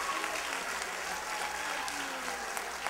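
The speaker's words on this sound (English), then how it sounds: "let's give all of our submissions a round of applause" An audience at a Black History program in Delray Beach, Florida applauds for student submissions, a steady, dense clapping that fills the room evenly from start to finish at moderate loudness.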